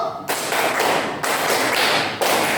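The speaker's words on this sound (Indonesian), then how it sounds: "Tepuk tangan 1." A group of students in a classroom lesson claps in unison on command, producing a few sharp, loud bursts of hand claps separated by short pauses, with no talking.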